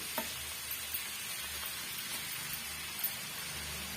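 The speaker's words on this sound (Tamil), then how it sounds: "ஜஸ்ட் வந்து ஒரு 2 மினிட்ஸ்க்கு இதை வதக்கி விட்டுக்கிட்டாலே போதுங்க" Snake gourd with a coarse ground paste sautéing in a hot pan, a steady soft sizzle with faint scraping of a spatula, even and continuous, close but fairly quiet, no talking.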